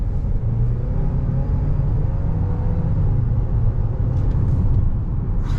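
Continuous low engine rumble and road noise inside a 2023 Ford Escape ST-Line Elite with the 2.0 engine accelerating in sport mode, steady and fairly loud throughout.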